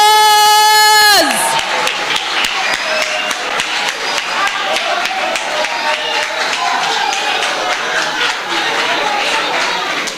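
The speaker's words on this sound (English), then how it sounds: "Let's give him a round of applause." Audience at a spelling competition breaks into sustained applause for the winner, dense clapping that carries steadily after a brief tonal sound at the start.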